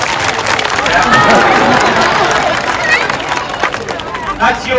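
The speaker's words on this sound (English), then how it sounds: "That's your cue to give him a bit of a cheer" Audience at a sea lion show at West Midland Safari Park cheering and clapping. A loud, sustained burst of crowd noise with mixed shouts and voices.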